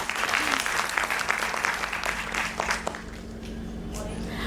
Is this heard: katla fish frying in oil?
no